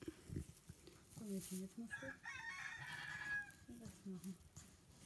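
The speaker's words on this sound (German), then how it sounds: "pünktlich zur Geburt kräht unser Hahn" A rooster on a goat farm crows clearly nearby during a goat birth. The drawn-out crow rises over low voices and other farmyard sounds.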